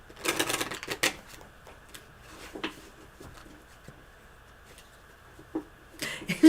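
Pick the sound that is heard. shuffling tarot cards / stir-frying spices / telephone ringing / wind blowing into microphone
shuffling tarot cards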